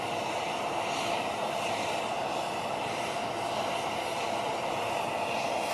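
The presidential plane's jet engines keep up a steady, broad whine and roar on the airport apron in West Texas, a constant moderate drone with no breaks and no voices.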